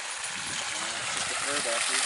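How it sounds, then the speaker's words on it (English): A waterfall pours into a newly restored wetland, giving a steady broadband hiss of falling water, constant and fairly close, with a voice speaking over it. "I hear the waterfall. The white noise of the waterfall."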